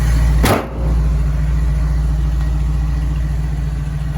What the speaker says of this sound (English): Like I said, 425 Cadillac motor. Runs out smooth.